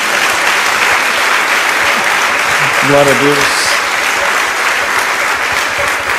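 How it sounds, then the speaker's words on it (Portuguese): A church congregation claps in a dense, continuous round of applause, with a voice briefly calling out above the clapping midway through. "Dá uma salva de palmas a Jesus."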